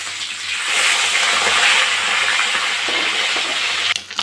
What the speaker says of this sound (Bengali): মাছগুলো এক সাইডে ভাজা হয়ে গেছে, আমি এবার উল্টে দেবো